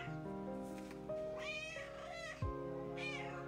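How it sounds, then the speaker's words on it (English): A house cat meows repeatedly near the microphone during a live crochet session, several drawn-out rising and falling cries following one another over a low background hum. "Cat."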